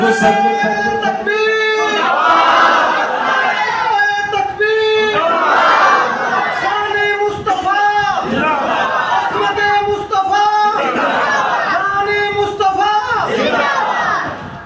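A large crowd at a religious speech shouts a slogan in unison, repeated rhythmic chants with a leader calling and many voices answering, loud and close.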